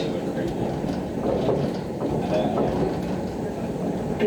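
A London Overground Lioness Line train bound for Watford Junction rolls along with a steady low rumble and rattling carriage noise, carrying on evenly throughout at a moderate, close level.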